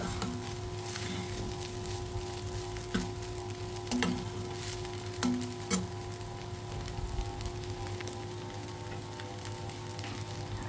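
Home-cooked rice being stir-fried with scrambled eggs in a pan, a low steady sizzle with occasional soft clicks and scrapes from stirring, under a constant background hum.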